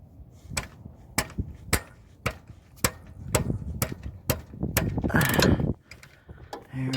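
A ratchet with a 15mm socket loosens the oil drain bolt on a GM 5.3L engine, its clicks coming in a rapid run of crisp, close strokes with brief pauses, followed by a rougher scraping burst.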